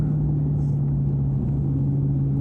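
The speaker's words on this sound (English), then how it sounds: "The sound, it's one of the best sounding V8s I think ever produced." Maserati Quattroporte V8 engine running at a steady idle, a deep, even rumble with a constant low hum, loud and close with no talking.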